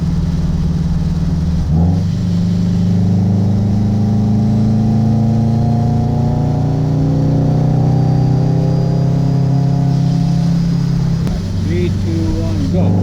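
Supercharged, street-tuned Subaru BRZ engine revving loudly and steadily, close by, with a sustained roar of rising and falling harmonics and a brief dip before climbing again.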